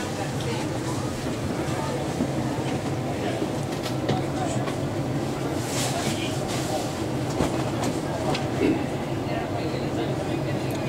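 Steady rumble of a train at busy Adelaide Railway Station, with a continuous clattering roar and faint voices mixed in, fairly loud throughout.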